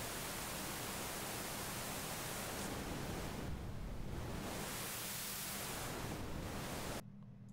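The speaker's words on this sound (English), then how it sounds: "Pink Noise Explorer." Steady pink noise generated by a JavaScript web page, a dense even hiss spread across the whole range that drops off abruptly near the end, with no voices over it.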